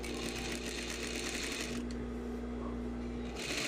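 A sewing machine stitches along a skirt lining, a fast steady close mechanical whir with a brief change in pitch partway through, running continuously without pauses.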